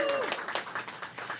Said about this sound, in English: Clap it up for Ward 7 today.